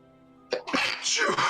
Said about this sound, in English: I'm going to sneeze all the time.